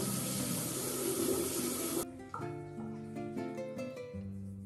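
Tap water runs steadily into a sink for about two seconds while a face is rinsed of a powder scrub, then cuts off, leaving quieter tonal background sounds.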